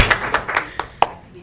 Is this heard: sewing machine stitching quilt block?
no